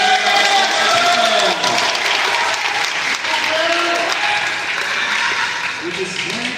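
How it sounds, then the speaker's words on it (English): Audience applause at a BrickFair event, a full crowd clapping steadily with cheering voices and some talk mixed in over the clapping. "Round of applause for this week's guy."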